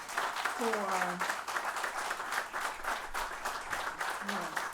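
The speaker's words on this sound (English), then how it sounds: "So I think that he deserves a round of applause" Audience at a journalism recognition ceremony clapping in a steady, moderate round of applause, with voices heard briefly over it.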